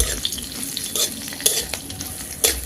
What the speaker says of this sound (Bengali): 1 ইঞ্চি পরিমাণ আদা কুচি দিয়ে দিচ্ছি, 1/2 চা চামচ গোটা লাল সর্ষে, 1টি কাঁচা লঙ্কা কুচি, কয়েকটা কারি পাতা দিয়ে দিচ্ছি। একটু সময় ভেজে নিব।